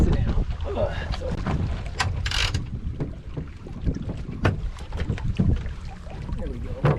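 A small sailboat moving on the water, with wind buffeting the microphone, water rushing and splashing against the hull, and occasional creaks and knocks, while people chat nearby.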